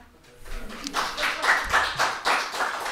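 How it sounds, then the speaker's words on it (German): Applause breaks out at a football club's pre-match press conference before the match against SpVgg Greuther Fürth, scattered claps building into several steady swells of clapping from a roomful of people, moderately close. "Es gibt schon Applaus, bevor der Trainer spricht."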